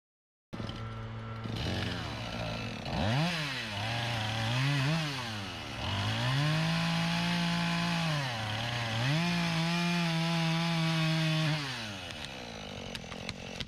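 Chainsaw cutting through the back of a light tree trunk during felling: a loud, close engine that revs up and down in repeated surges, then holds a steady high whine while biting into the wood, with no talking.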